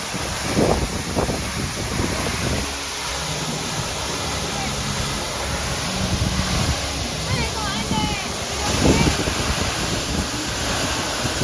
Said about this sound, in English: We just went through the most beautiful waterfall in the world.